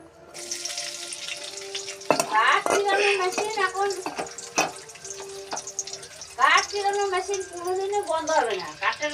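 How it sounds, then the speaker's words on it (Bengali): Onion and green chili frying in hot oil in a wok, a steady loud sizzle with sharper bursts of crackling and stirring clatter, while a voice talks over it throughout. "এবার তেলটা গরম হয়ে গেছে, আমি পেঁয়াজ আর লঙ্কাটা দিয়ে ভেজে নেব।"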